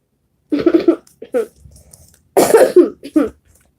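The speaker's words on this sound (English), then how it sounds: "Coming off of this cough." Several harsh coughs in two bursts, close and loud, with a brief throat-clearing sound between them.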